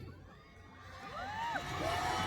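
Outdoor festival crowd at a cosmos flower festival opening stage in Guri, cheering and whooping as the final performer is introduced, rising in a swelling roar with scattered shouts.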